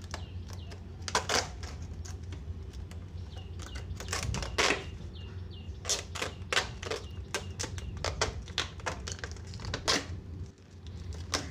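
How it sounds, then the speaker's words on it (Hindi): A plastic packet holding an 80-watt glue gun being cut open with a cutter, giving sharp, irregular clicks, scrapes and crinkles close up, in quick bursts with short pauses between. "तो आप देख सकते हैं कि मैं इसे इस कटर से काट रहा हूँ।"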